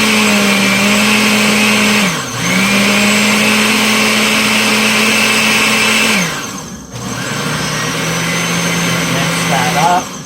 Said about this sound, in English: let's get a blend in. This is going to have some sound that's going to be loud.